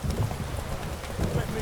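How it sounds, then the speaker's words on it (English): Heavy rain pours down in The Witcher 3 video game, a steady dense downpour with low thunder-like rumble underneath, loud and continuous throughout. "This downpour's a bastard, it is."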